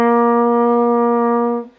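A single sustained low C on a trumpet, held steady and relaxed for nearly two seconds with a rich, even tone before releasing, heard alone.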